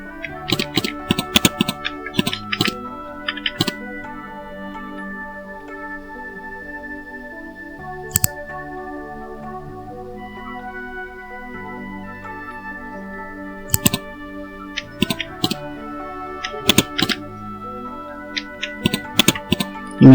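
Computer keyboard keys clicked in uneven bursts while an email address is typed into a Facebook sign-up form, with soft background music beneath the taps.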